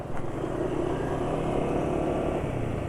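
A motorcycle engine runs steadily with sesame-oil additive mixed into its engine oil, a continuous close mechanical rumble with even loudness throughout and no voices.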